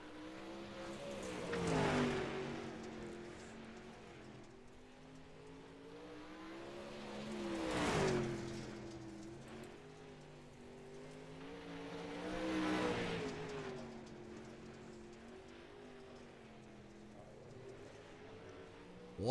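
Pro Late Model race cars lapping Fairbury in iRacing, engines heard faintly from a distance as they swell past roughly every five to six seconds, each pass rising and fading over a steady low drone.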